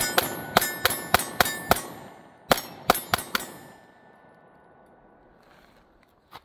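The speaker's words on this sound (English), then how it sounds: "let's shoot this last mag, just so you can see this 13+1 mag in action on the Smith & Wesson Shield" Smith & Wesson Shield Plus pistol fired through a 13+1 magazine: a rapid string of five sharp cracks, a short pause, then four more shots, each ringing briefly before the range goes quiet.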